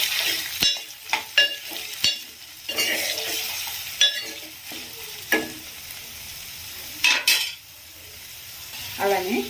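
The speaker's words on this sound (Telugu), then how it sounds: "ఇప్పుడు ఇందులోకి మనం కట్ చేసి పెట్టుకున్న ఆనియన్ పచ్చిమిర్చి యాడ్ చేసుకుంటాము." Onion and green chillies stir-fry in a pan of ginger and garlic for goat head curry, sizzling steadily under sharp scrapes and clinks of a spoon against the pan, with no speech.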